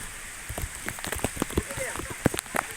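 Rain falling outdoors, scattered drops pattering and splashing on surfaces in an irregular patter, with voices and children's noise in the background.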